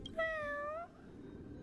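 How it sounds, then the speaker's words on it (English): A cat meows once in the video game Honkai: Star Rail, a single clear, drawn-out cry that rises slightly and then falls away against a soft background hum. "Stop, the meowing is so cute."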